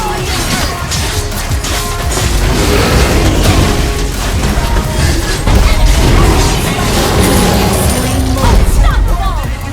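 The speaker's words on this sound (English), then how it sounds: "Team destroy the turret." Turret being destroyed in the Mobile Legends video game, a loud dense burst of crashing, booming battle effects amid continuous game action, with an announcer voice heard over it.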